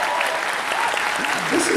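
Audience applause at a Midsummer Scream 2019 panel for a TV show, a steady wash of clapping from a hall crowd that fills the whole moment, with a voice faintly audible underneath.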